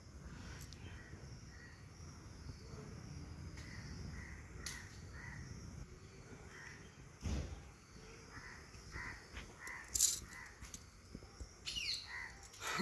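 Parrots call from around a coconut tree outdoors, giving scattered harsh squawks and caws at moderate distance over a soft rustling background, growing louder and more frequent toward the end; no one speaks.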